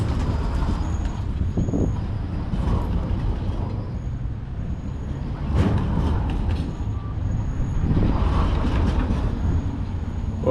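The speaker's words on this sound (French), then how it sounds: "Voilà, la voiture démarre." A fairground ride car at a Sydney fair starts up with a low mechanical rumble and hiss, continuous with a few louder surges and clunks.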